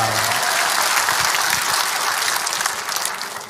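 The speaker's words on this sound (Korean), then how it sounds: "하나님께 영광의 박수 올리겠습니다." A church congregation claps together in steady, dense applause that fills the room from start to finish, easing off slightly toward the end.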